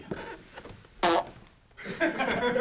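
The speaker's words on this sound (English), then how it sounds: "You doing all that farting?" A child farts at home, a short sharp blast in the middle, heard between stretches of voices talking and laughing.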